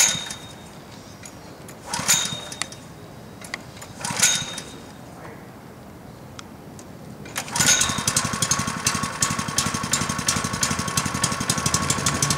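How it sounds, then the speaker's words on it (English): An Airlessco Sure Stripe 3650 airless line striper's small engine is pulled over a couple of times, then catches and runs at a steady, loud, close idle drone. "start the engine."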